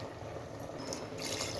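Water pouring steadily from a glass into a cooking pot, a continuous close splashing trickle that brightens toward the end, with no talk over it.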